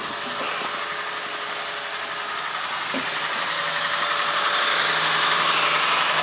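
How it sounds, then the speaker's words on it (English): A car engine hums and vibrates steadily at idle, the broadband roar swelling slightly louder toward the end as it revs a little. "I'm going to rev it up a little bit"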